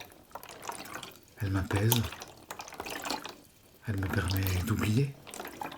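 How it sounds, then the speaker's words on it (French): River water flows and drips softly beneath a close, hushed whispered voice that goes on throughout, the gentle liquid sound steady in the background. "Je me laisse bercer par le son de cette rivière, de cette eau."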